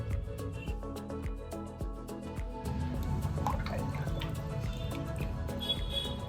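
Moringa leaf juice is poured into a mix of coconut, palm, olive and castor oils for homemade soap: a few drips at first, then a steady close trickle that carries on under a soft musical background.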